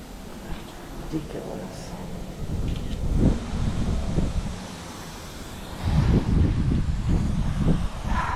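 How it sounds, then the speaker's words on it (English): Wind buffets a microphone outdoors as a steady low roar with gusty swells that grow stronger in the second half, and a voice talks in the middle of it. "the wind's blowing this way, so now I get wet"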